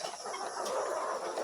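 Newly arrived RTL chickens cluck softly nearby in a short, faint burst of low, repeated clucks.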